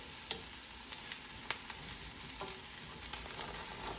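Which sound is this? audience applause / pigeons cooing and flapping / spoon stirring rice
spoon stirring rice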